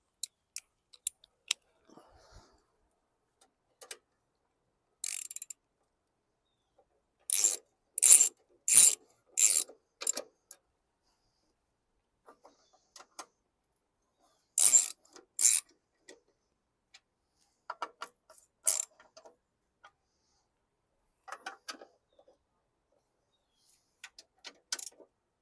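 Sparse, crisp ratchet clicks come in short bursts separated by silences as bolts are snugged on a crusty, somewhat rusty 2013 Murray push lawn mower.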